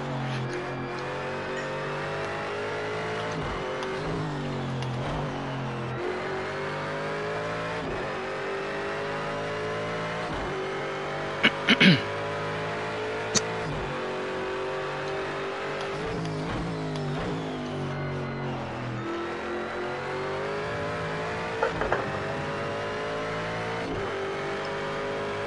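A GT1 race car engine in Project Cars 2 at Watkins Glen revs and accelerates continuously, rising and falling through gear changes with brief tire squeals, loud and close throughout.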